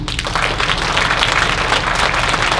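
An audience at a music festival lecture claps steadily to welcome a doctor, a continuous wash of applause mixed with a low droning hum, with no talk over it.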